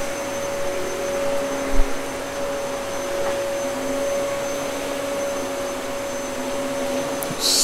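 A Hoover vacuum cleaner runs nearby inside a motorhome at a dealership, giving a steady, continuous whining drone with a faint thump partway through and no talking.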